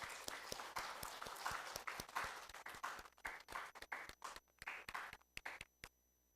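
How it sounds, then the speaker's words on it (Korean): A church congregation at a Sunday worship service claps together in a large room, many hands in a steady rapid patter that gradually thins into scattered claps before stopping. "박수하시겠습니다."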